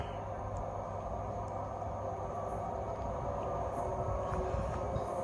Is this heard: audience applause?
no